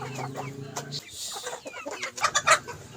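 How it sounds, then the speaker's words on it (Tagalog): Chickens clucking and murmuring nearby, a mix of low rhythmic clucks and sharper squawks toward the end. "ako mga chicken ug mga manok"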